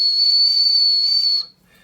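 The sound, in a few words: whistle built into Willuck tactical pen being blown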